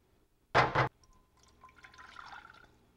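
A quarter cup of water sloshes into a pan of jerk seasoning in one short, sharp splash, followed by faint trickling and dripping.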